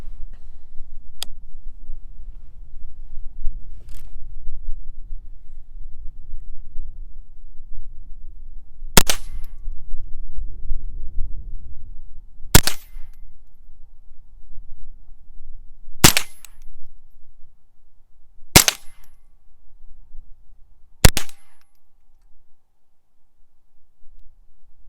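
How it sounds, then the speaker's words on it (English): A Ruger 10/22 rifle fires a string of sharp, cracking shots at irregular intervals of a few seconds, with two fainter reports early on and several loud ones later, over low outdoor rumble and no speech. "I'll fire all 10"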